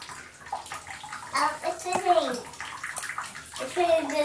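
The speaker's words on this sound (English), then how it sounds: "Turn the water all the way off." Tap water runs and splashes into a bathtub, a steady rushing hiss with sloshing, while a child and an adult talk over it at close range.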